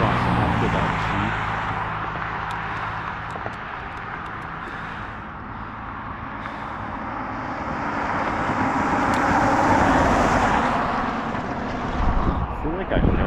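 Road traffic including a passing Jeep swells and fades beside a bike rider, a broad steady roar with wind noise that rises near the end, and a voice talks over it.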